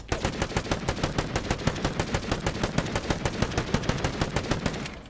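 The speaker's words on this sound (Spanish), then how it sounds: "Yo escucho tiros." Rapid automatic gunfire in a video game, a long unbroken string of evenly spaced shots at a fast steady rhythm, loud and close throughout before cutting off right at the end.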